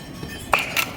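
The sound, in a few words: tube light glass breaking with a pop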